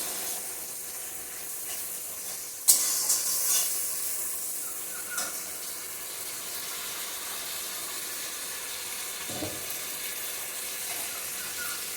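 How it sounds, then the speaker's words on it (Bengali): Masala spice paste sizzles and hisses steadily in a hot pan for a duck egg, onion and potato dish, with a sharp clatter near the start and a few faint knocks over the continuous frying. "মশলাটাকে কষিয়ে নিই"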